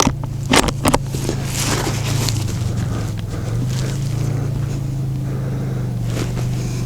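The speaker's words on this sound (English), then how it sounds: "Dad's driving up." A car engine hums steadily as the vehicle drives up and arrives outdoors, a close low drone that holds throughout after a few sharp knocks at the start.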